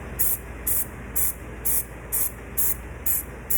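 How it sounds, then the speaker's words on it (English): Canned velvet spray hisses out in eight quick, evenly spaced bursts, each stopping cleanly before the next, while a white chocolate pistachio entremet is coated; close, sharp and steady in rhythm. "when you use this canned velvet sprays, it's going to be quick motions and just stopping and starting."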